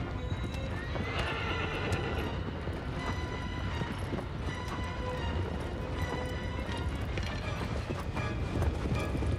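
Horse galloping in the video game Shadow of the Colossus, rapid continuous hoofbeats with whinnies and creaking tack, close and loud throughout.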